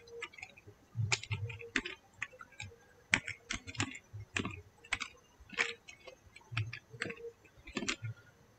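Irregular bursts of clicky keystrokes as JavaScript code is typed on a computer keyboard, close and fairly quiet, with brief pauses between runs of keys and no talking.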